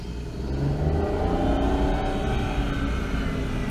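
A Daewoo Matiz drives off after restoration work, its small engine giving a steady, fairly loud rumble and whir that builds in the first half-second and then holds evenly, with no talking.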